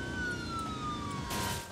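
A Dodge police car siren wails in the Car Crushers video game, a sweeping electronic tone gliding downward over an engine drone, fairly quiet and brief.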